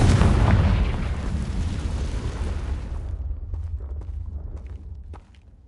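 Confringo explosion spell in the video game Hogwarts Legacy: a loud blast at the start that rolls into a long rumbling decay, fading over several seconds with a few scattered pops and crackles.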